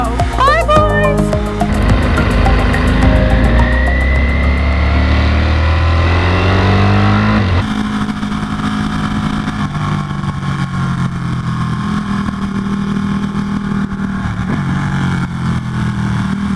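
A Ducati Panigale V4 Speciale and a 1199 Tricolore ride off, their engines loud and close at first, revving up through the gears and then fading into a droning whine as they pull away.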